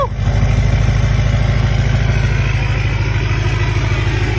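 A Duramax LBZ diesel truck engine, fitted with a Yikatoo straight pipe exhaust and no tip, rumbles steadily at idle on its first start, a loud, even, deep pulsing drone that holds throughout with no talking.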